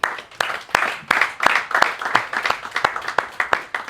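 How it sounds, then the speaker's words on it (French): An audience at a Bitcoin Day conference in Gabon applauds the organisers, a dense clatter of many hands clapping in uneven bursts that rise and fade, with no speech. "j'aimerais quand même qu'on applaudisse pour l'organisation"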